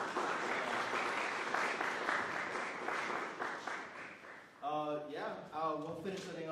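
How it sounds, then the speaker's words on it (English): Audience applause at a senior composition recital, a dense wash of clapping for about four and a half seconds that cuts off abruptly as a voice begins speaking near the end. "I just want to give a personal round of applause to them."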